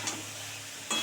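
Green peas sauté with spice paste in a wok, giving a soft, steady sizzle with two short scraping stirs at the start and end and no talking.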